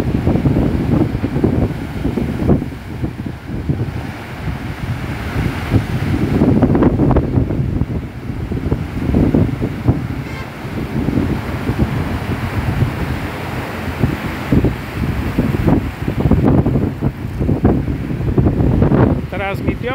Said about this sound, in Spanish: los dejo con estas imágenes de esta fuerte marejada aquí en Playa Villa del Mar